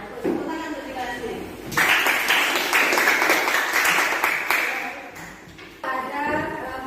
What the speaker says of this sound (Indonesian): Tepuk tangan untuk dikasih.